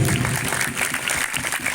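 A crowd at a religious lecture event in Batanghari, Indonesia claps continuously, a dense wash of applause from many hands throughout.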